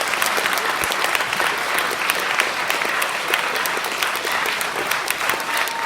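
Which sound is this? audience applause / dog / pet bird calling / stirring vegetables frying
audience applause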